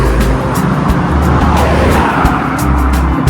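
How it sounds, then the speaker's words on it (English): A fast car races by close on a street in Farnham, England, a loud engine roar with a low rumble and sharp bursts, passing quickly with no talk over it. "Car is so fast."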